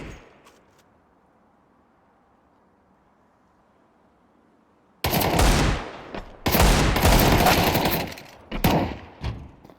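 Automatic weapon fire in Counter-Strike 2 during a collegiate match, beginning after five seconds of near silence with a loud continuous burst, then further sustained volleys and sharp gunshots close by, no talk.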